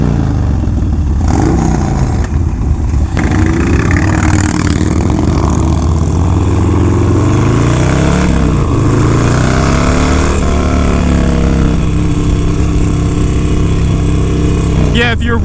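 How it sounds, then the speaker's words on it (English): A 1994 Harley-Davidson FXR with a Bassani 2-into-1 exhaust rumbles loudly and close, its deep throb rising and falling as the engine revs up and settles back repeatedly. "if you're wondering about his exhaust, it looks like he's running a Bassani 2-in-1 on there"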